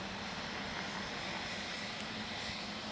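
A Pilatus PC-24 business jet roars steadily as it passes at Dallas Love Field, a broad continuous engine rush heard alone at moderate loudness.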